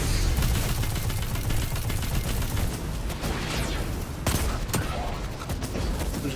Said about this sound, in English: Am I getting shot from behind?